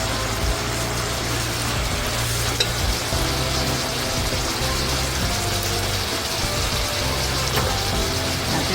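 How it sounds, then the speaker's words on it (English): Onion and mushrooms sizzle in a hot pan for Mongolian-style cooking, a steady close frying hiss with occasional stirring scrapes throughout. "I'm gonna toss in some onion and a few mushrooms."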